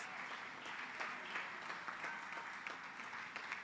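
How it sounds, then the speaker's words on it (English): Faint, distant applause from an audience at a teachers' association awards ceremony for a primary school teacher, a soft continuous patter of many hands lasting a few seconds. "Help me give her a round of applause."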